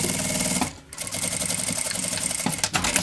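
A sewing machine stitches a fabric travel cosmetic case, a fast, even mechanical whir and rattle, loud and close, pausing briefly before running on steadily.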